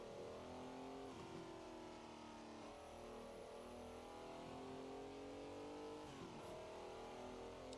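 Ferrari 330 P4's 4-liter V12 in Assetto Corsa, revving steadily high and loud for the full stretch, with pitch sweeps as it shifts and eases off around the middle and near the end, no voices.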